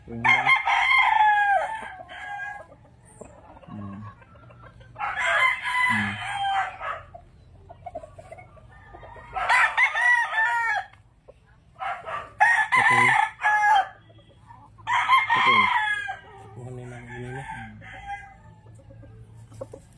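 Gamefowl roosters crowing repeatedly and loudly nearby, several long crows in a row with short gaps, while low voices and soft clucks sit in the background.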